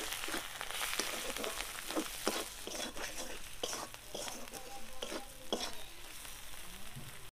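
Spice paste with salt and turmeric frying in a pan for a fish-egg dish, a steady crackling sizzle with repeated stirring scrapes throughout, moderately quiet and unaccompanied by speech.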